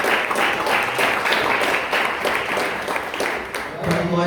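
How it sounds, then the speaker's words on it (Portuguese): A church congregation bursts into sustained applause, many hands clapping in a loud, dense patter, with voices mixed in underneath and a brief lull near the end. "Vamos aplaudir o Senhor Jesus."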